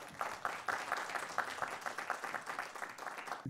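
An audience applauds Madame Catherine Crow at a December bingo event, steady close clapping from a modest crowd lasting a few seconds, with no voices over it.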